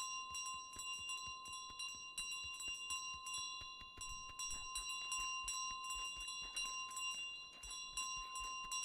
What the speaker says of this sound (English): time's coming up when I drop the bell